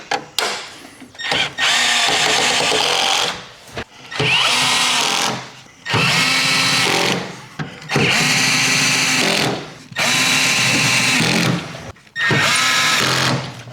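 Cordless power drill driving screws into a 1975 Monte Carlo body panel, with five loud, sustained whirring bursts of a few seconds each separated by short pauses, close up and with no talking.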